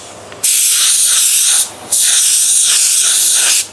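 A spray gun lays a metallic car paint blend in two long bursts of steady hiss, each over a second long, separated by a brief pause and ending abruptly, loud and close.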